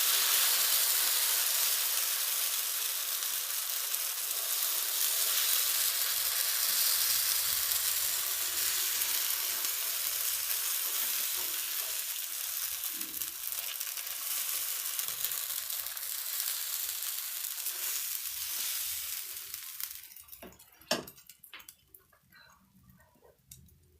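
Chila batter sizzles steadily on a hot oiled pan, a dense, bright crackle that holds for about twenty seconds and then fades into a few clicks near the end, with no talk.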